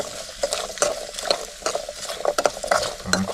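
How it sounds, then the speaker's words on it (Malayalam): Onions being stirred and sautéed in a pan, a close, continuous sizzle with frequent scraping and clinking of a spoon against the metal in an irregular rhythm. "ഉള്ളി നല്ല വഴറ്റണം കേട്ടോ."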